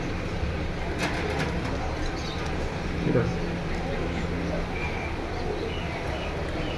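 Pigeons cooing at a pigeon seller's, where a khaki pair is on show; a faint, brief coo rises once over steady background noise while a person talks.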